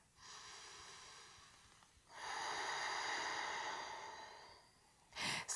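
Slow, deep breaths during a gentle beginner yoga pose, heard close and soft. A long exhale is followed by a pause and a fuller inhale, then a short sharp breath at the end, with no talking.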